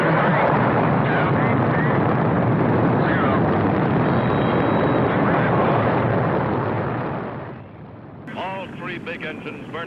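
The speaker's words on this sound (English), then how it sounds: "Big engines burning clean and hot, pushing the Friendship 7 spacecraft ever faster towards space" Spacecraft rocket engines roar at the Friendship 7 launch, a loud, dense, continuous rumble that fades out near the end before a voice begins speaking.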